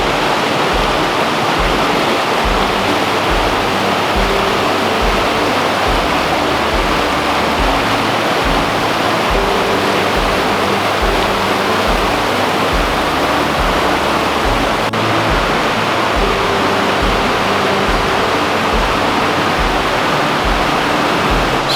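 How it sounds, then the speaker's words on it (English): Little River rushes beside a wooded hiking trail in Elkmont, Great Smoky Mountains National Park, a loud, constant creekside wash of flowing water with no voices. "So we are on Little River Trail, which of course goes right by Little River, as you guys can hear."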